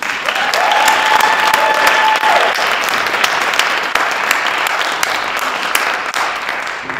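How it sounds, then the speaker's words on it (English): An audience applauds two senior-class performers at a high school performing arts showcase: dense, sustained clapping from a large crowd fills the whole stretch, steady and fairly loud with a slight fade at the end. "Let's give them another round of applause."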